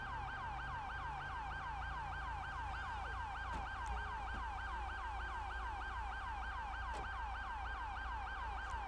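Ambulance siren in GTA 5 wails in steady repeating sweeps, loud and continuous over low engine rumble, with no talk.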